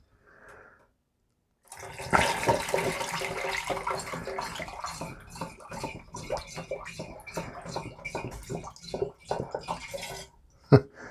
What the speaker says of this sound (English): now I've got to strain out the coffee beans